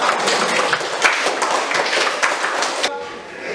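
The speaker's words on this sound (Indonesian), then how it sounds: "tepuk tangan untuk kelompok" A classroom of students claps for a student group after its presentation, a brisk, fairly loud burst of hand clapping that stops abruptly near the end.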